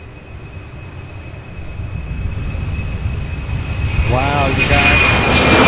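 A departing airplane at Louisville airport builds into a swelling jet roar that grows louder toward the end, while a person speaks briefly near the close.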